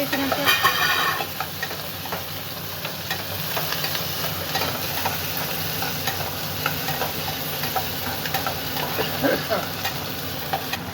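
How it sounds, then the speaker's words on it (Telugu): Chillies frying in hot oil in a home kitchen for tomato chutney, a steady sizzle and crackle with occasional stirring scrapes, close and continuous throughout. "తీసుకున్న మిరపకాయల్ని మనం ఇలా వేయించుకోవాలి"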